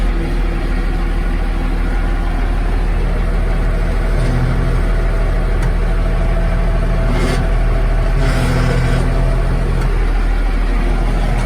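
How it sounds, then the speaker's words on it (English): An old Case 2290 tractor used for raking hay runs steadily close by, its deep engine drone continuous throughout with a couple of brief rises suggesting revving; it sounds like the engine is already running rather than starting. "Fire up the old girl here. This is my raking tractor"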